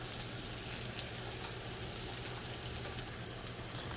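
Food frying in a pan, an even, continuous hiss of sizzling oil that holds steady throughout, fairly quiet and close, with no talking.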